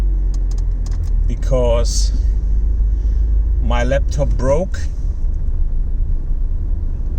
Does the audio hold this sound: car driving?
yes